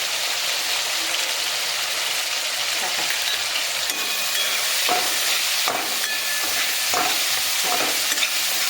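Black sesame seeds roasting in a pan, with a steady dry crackle and sizzle under repeated scraping strokes of a stirring spoon, close and continuous throughout.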